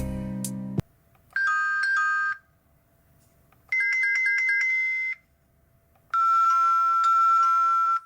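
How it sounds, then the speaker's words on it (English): An electronic doorbell plays three separate bright, bleepy chime melodies, each a couple of seconds long, with quiet pauses between them. "Okay, that's a doorbell."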